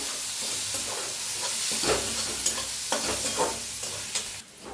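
A spice mixture with turmeric, red chili, green chilies and coriander powder being stirred in a hot pan, close sizzling with repeated scraping strokes of the spoon over a steady hiss.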